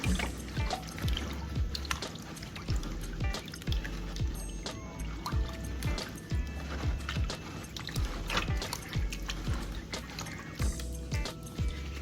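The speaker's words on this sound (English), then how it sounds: "my hand here to mix it up and get it as dissolved as I can" A hand swishing through water to break up and dissolve chunks while mixing a soak for cleaning a largemouth bass head for a taxidermy mount, a steady churning slosh with rhythmic splashy pulses, close and continuous.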